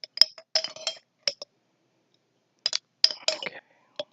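Glasses clinking and spoons tapping against jars: bright, quick clinks in short bursts, up close, with a pause of silence in the middle.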